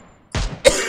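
Two sharp coughs sound close to the mic, a short burst followed by a louder, harsher one, against a near-silent background.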